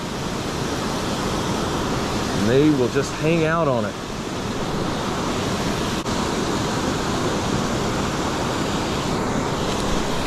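Water rushes over a river spillway in the rain in a loud, steady, broadband roar, with someone talking briefly over it near the start.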